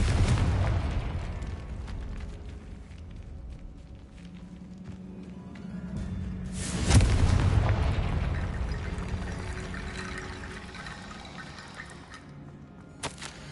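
Confringo fire spell in Hogwarts Legacy on PS5 blasts with a loud crackling burst near the start, a second booming swell mid-clip, then a long rumbling, hissing decay as debris settles.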